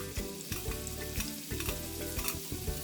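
Seafood with ginger, garlic, red chilli and onion sizzles loudly in a hot pan, with steady frying crackle and periodic scraping stirs.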